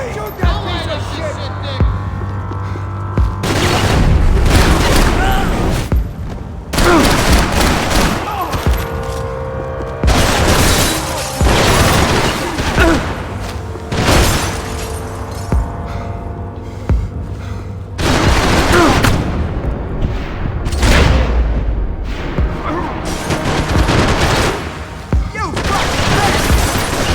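Max Payne 3 video game firefight, with dense bursts of gunfire and booming impacts throughout, loud and close, while characters shout over the shooting.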